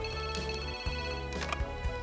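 In the video game Power Pro Kun Pocket R, a telephone rings in short repeating electronic bursts over steady background music, close and moderately loud.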